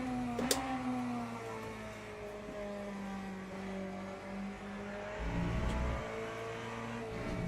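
A race car engine from the Le Mans Ultimate sim at Interlagos drones steadily, with harmonic tones shifting through revs, then a rougher low rumble near the end. It stays fairly faint throughout, with no talk.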